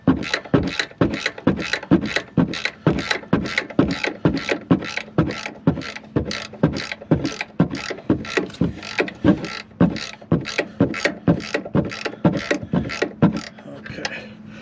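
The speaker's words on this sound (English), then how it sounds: "these bolts up here are 18mm. You got to loosen them." A ratchet loosens 18mm bolts on the front end of a Chevrolet Silverado, giving a long run of quick, sharp clicking strokes in a steady rhythm, loud and close.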